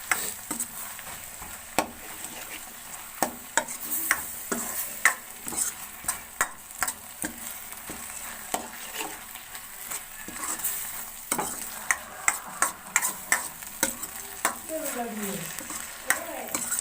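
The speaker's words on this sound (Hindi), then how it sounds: "ये अच्छी तरह से पक गई है और इसको अच्छी तरह से आपको हिला देना है।" A spoon stirs garlic and green chili chutney in a pan, with repeated scraping clinks and soft sizzling at a steady close range, plus occasional sharper knocks against the metal.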